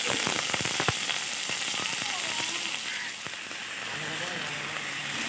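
Washed potatoes dropped into hot mustard oil crackle and spit sharply at first, then settle into an even, close sizzle with faint background sounds.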